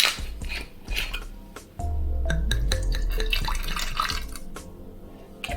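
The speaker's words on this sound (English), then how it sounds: "So now let's measure out the vermouth. Put that in." Vermouth poured into a cocktail glass alongside gin and Campari, a steady trickling pour lasting a few seconds, close and clear, with small clinks of glassware around it.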